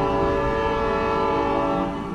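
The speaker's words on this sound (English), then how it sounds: "So we'll just let the train go by here." A train passing by, heard from an outdoor home deck, with a loud, sustained horn blaring throughout over the steady rumble of rolling rail cars, close and fading slightly at the end.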